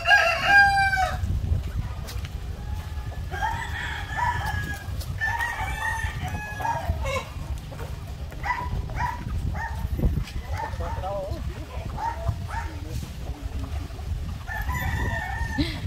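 Roosters crow repeatedly on a chicken farm, several drawn-out calls from moderate distance, mixed with clucking and occasional dog barks over a constant low rumble of background noise.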